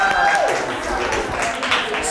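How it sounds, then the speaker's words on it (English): Audience applause at a live public-speaking workshop on performance anxiety: dense, steady clapping through the whole stretch, with a brief tonal voice-like sound near the start. "let's give a round of applause."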